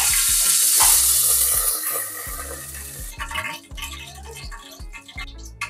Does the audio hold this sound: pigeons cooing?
no